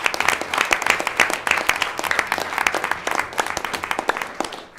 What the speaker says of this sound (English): maybe a quick round of applause for the parents that I know are here as